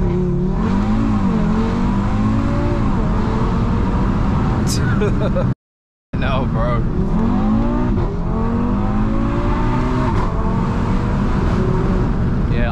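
A 515 bhp Audi RS3 is driven hard on a short circuit, its engine revving and shifting through gears loudly from inside the cabin. Someone talks over the engine noise, which cuts out abruptly for a moment midway.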